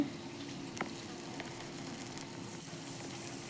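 Green chili paste, turmeric and salt fry in a hot pan with a steady, low crackling sizzle, broken by a couple of faint clicks from stirring, with no voices.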